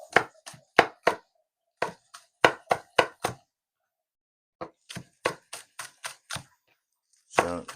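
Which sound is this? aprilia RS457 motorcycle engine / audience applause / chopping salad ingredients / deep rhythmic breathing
chopping salad ingredients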